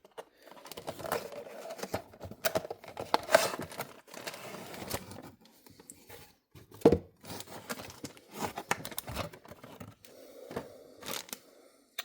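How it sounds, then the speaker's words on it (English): Cardboard and packaging rustle, tear and snap in short, uneven bursts as a diecast model truck's box is opened, close up, with quiet gaps between handling sounds. "Let's open the box."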